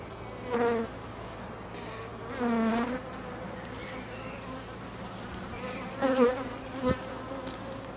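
Honeybees buzz around an open hive as pollen foragers return, a close, continuous insect drone with several louder passes as individual bees fly near, with no talk.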